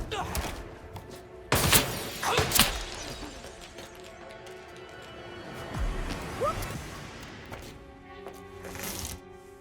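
Gunfire in the video game Hitman Absolution comes as sharp, loud cracks and crashing impacts near the start, followed by lower rumbling clatter and tonal game sounds, with voices mixed in.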